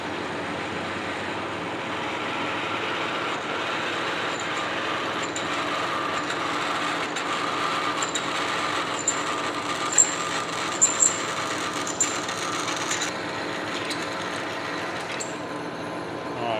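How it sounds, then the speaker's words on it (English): A machine drills into metal with a taper shank bit, a steady, even whirring grind that holds for the whole stretch, joined near the end by a few faint clicks. "I just got a taper shank bit on here that we'll drill that out with"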